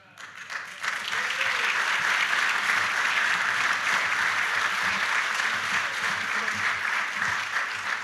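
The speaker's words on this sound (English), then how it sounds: "How about a nice round of applause for Chief Logan?" An audience bursts into sustained applause for Chief Logan at a police department swearing-in ceremony, with loud, dense clapping that swells after a second and carries steadily to the end.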